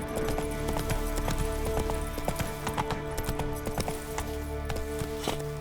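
Roach the horse from The Witcher 3 galloping, a brisk, steady clip-clop of hooves with a quick rhythm, close and prominent over a game music backdrop.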